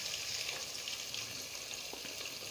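Chicken and tomato paste fry in a karahi with a dense, even sizzle, a close hissing bubble with faint stirring ticks throughout.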